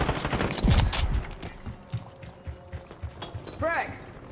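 Rapid gunfire bursts crackle through a tactical shooter video game, loudest early on and then scattered in shorter volleys, with game effects and a player talking over the action.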